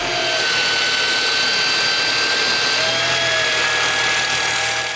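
A BMW 335i engine runs steadily after a turbo upgrade, a loud continuous roar with a bright whine and rising whistle tones, close by and without talk.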